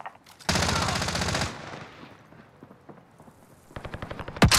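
A loud, fast automatic gunfire burst in Call of Duty Warzone on Rebirth Island, close and sharp for about a second, then fading, followed by another rapid volley of shots.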